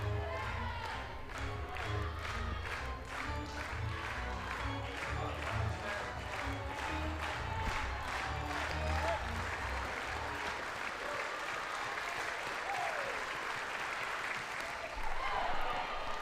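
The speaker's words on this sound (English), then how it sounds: "Crowd trying to get into it." Softball crowd at an Arkansas vs South Florida college game applauding and cheering steadily, with dense rhythmic clapping and shouts filling the stadium at moderate distance throughout.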